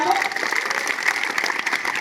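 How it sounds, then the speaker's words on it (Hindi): A crowd at a public gathering claps briefly under lingering voices, a short, moderately loud patter of applause. "बजाओ जोरदार तालियां"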